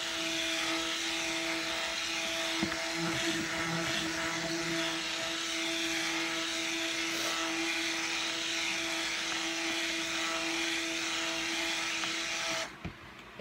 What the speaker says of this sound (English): time to come in with our stick blender and get mixing